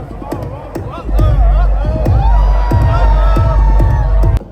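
A loud crowd at a techno DJ set in a Tokyo club, with cheers and whoops rising over a heavy, steady bass beat and thumping kick drum throughout.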